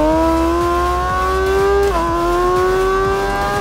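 A 2019 MV Brutale 1000 Serie Oro engine screams loud and close as the bike laps the Nurburgring in RIDE 4. It holds a steady high whine, dips briefly at a gear change, then climbs again, with no talking.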